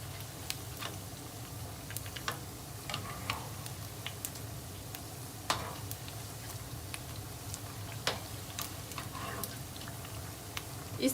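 Besan pasta pakoras fry in a kadhai of oil, giving a steady crackling sizzle dotted with many sharp little pops and ticks at close range.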